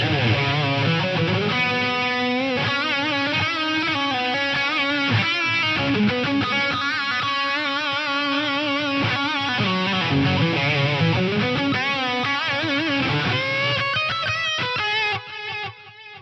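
Electric guitar with a distorted tone plays a sustained phrase through a dual delay effect on a PCM81 processor, notes smearing into repeating echoes that trail and overlap throughout.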